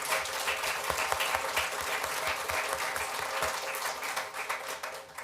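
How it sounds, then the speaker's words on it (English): A crowd at a city council meeting applauds an undefeated team, dense clapping at moderate distance that stays fairly even and tapers slightly toward the end. "They are undefeated, so I think that deserves a round of applause."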